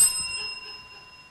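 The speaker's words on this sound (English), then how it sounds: "I rang the bell." A game show contestant rings a bell once, a bright metallic ding that rings out and slowly fades, with no one talking.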